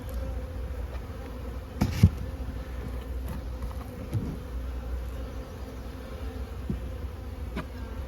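Honey bees buzzing around frames in a nuc hive, a steady low droning hum close by with a few brief knocks and thumps of the frames, no talking.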